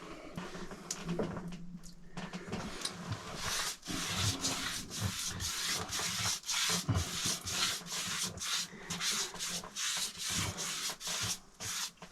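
A brush spreads a first coat of varnish onto a cherry and maple wood boat cabin sole, making repeated rhythmic scratchy strokes that are close but faint, one after another, with no talk.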